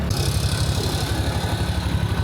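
A rented motorbike engine idles steadily near a volcano in Indonesia, a low throbbing rumble with a constant even pulse, close and continuous throughout with a faint hiss above.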